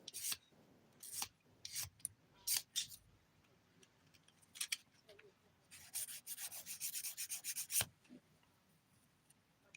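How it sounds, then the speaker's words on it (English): A nail file rasps against fingernails in short bursts of close, quiet scraping strokes, then a quicker run of rapid back-and-forth filing. "I'm filing now"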